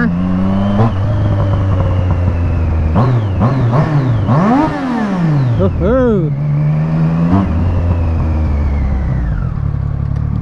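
A Triumph Street Triple motorcycle revs hard through first gear on a city street at night, its engine note climbing and dropping in sharp surges with a few quick blips, loud and close throughout.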